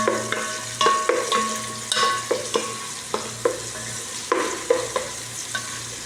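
Vegetables frying in a pan, stirred in repeated scraping strokes over a continuous sizzle, close and fairly loud.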